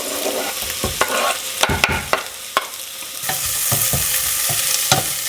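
Two cloves of garlic sizzle in a frying pan, a steady hiss broken by sharp clicks and scrapes of a utensil stirring against the pan, close and fairly loud with no voices.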